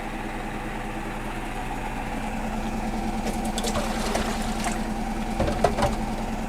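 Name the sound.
Hotpoint washing machine running and vibrating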